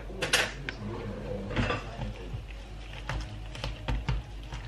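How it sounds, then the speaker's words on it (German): A batter of flour mixture is stirred in a bowl, producing intermittent close clinks and scrapes of a utensil against the bowl, with no talking. "Fertig, jetzt rühre ich das Ganze nur um."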